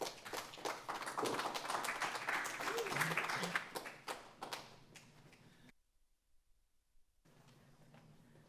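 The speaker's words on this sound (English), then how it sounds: "Another round of applause for Sara" A poetry jam audience gives a reader a round of applause: dense clapping for about five seconds that thins into scattered claps, then a brief silence and some quiet room noise.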